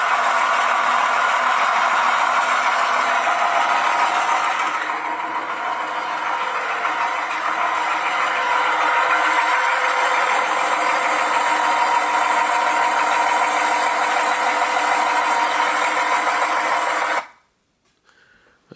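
An ISX diesel engine in a 13-speed semi truck with about a million miles runs steadily at a loud, close idle with a constant rumbling drone, then cuts off abruptly near the end.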